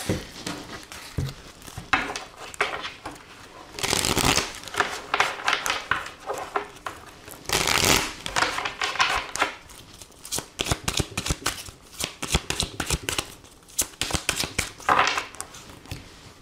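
A deck of oracle cards is shuffled for a French romance reading, producing repeated papery riffles and flutters in bursts with short pauses, close and alone with no talk.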